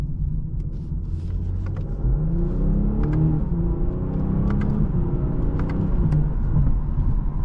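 2024 BMW 840i xDrive accelerating: a deep engine rumble climbing in pitch through the gears, heard steadily from inside the car with road noise underneath and no talk.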